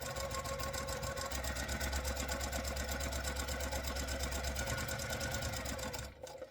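A sewing machine chain pieces quilt blocks in a fast, steady stitching rhythm, running continuously and close, then stopping abruptly near the end.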